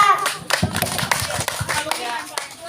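A small group claps for a child named Naisa, a short burst of irregular hand claps close by, with voices speaking over it.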